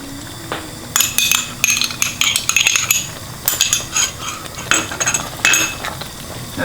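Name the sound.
stirring yogurt into salmon pasta sauce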